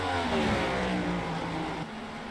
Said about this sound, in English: Never noticed how loud the pace car is.